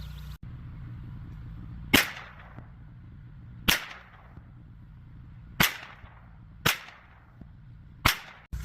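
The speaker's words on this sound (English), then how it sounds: "We're gonna shoot another 5-round group and see how we do with that. Next group's gonna be CCI mini mags." Five sharp .22 rimfire shots from a Ruger 10/22 rifle firing CCI Mini-Mag ammunition at a 50-yard range, spaced a second or two apart, each a crisp loud crack with a short echoing tail over a low background hum.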